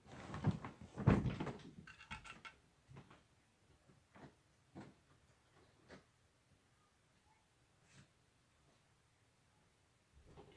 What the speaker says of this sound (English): I'm gonna unlock the door now.